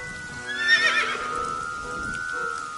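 A merry-go-round horse in the video game Ai The Somnium Files gives a single loud, close whinny that rises and trembles before fading, followed by a sustained tonal drone.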